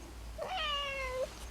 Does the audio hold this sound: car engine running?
no